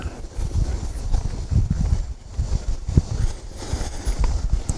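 Hooves of a cutting horse thud and shuffle on soft arena ground in a quick, uneven rhythm, close by, with steady wind noise and no talking.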